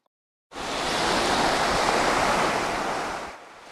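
A steady wash of surf rises after a brief silence, holding a broad, roaring hiss before easing off near the end.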